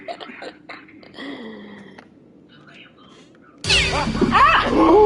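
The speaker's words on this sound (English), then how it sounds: "It was a cat." A cat meows in the horror game The Devil in Me, a few short cries against quiet ambience before a loud sudden burst; voices are heard in the mix.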